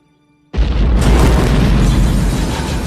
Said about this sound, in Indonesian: rumah tersebut meledak seisi-isinya